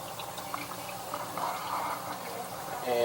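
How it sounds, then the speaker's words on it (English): A flooding aquarium protein skimmer draws in water with a soft, continuous gurgling and sucking sound and faint dripping, steady at low volume throughout. "And it cuts off because it's sucking in more water."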